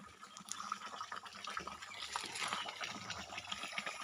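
Clean flowing water of Tinugdan, an abandoned, rarely visited stream spot, splashing and gurgling steadily at moderate distance, a soft continuous trickle with small drips throughout, no voices.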